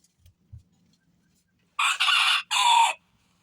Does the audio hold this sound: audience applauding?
no